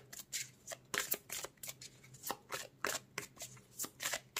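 Tarot cards are shuffled and drawn at close range, a rapid series of crisp riffling and slapping bursts in an uneven rhythm, with no talking over them.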